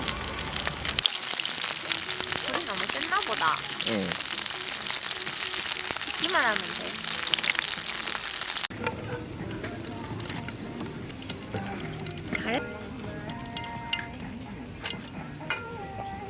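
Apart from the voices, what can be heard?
shrimp frying in oil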